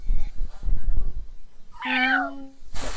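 A cat gives a single drawn-out, rising and falling meow midway, set between low thumping household noises and brief talk in the background.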